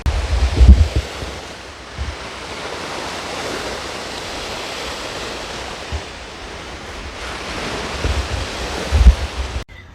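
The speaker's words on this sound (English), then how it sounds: "But I love the sound of the waves." Lake Michigan waves wash onto an empty beach in a continuous hissing surf, with wind buffeting the microphone in a few low thumps and no talking.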